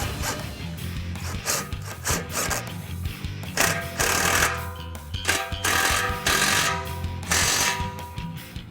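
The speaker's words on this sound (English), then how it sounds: "Factory clamp in place and we can tighten it down." A factory exhaust clamp being tightened on a 2013-2014 Mustang GT during a Borla S-Type cat-back install, with close repeated ratcheting or power-tool bursts in uneven pulses and a harsh mechanical rasp.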